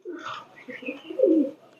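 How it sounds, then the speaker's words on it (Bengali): A Zira Golden pigeon coos close by in a few soft, throaty phrases, the last one fuller and louder, with no talking over it. "জিরা গোল্ডেন কবুতর"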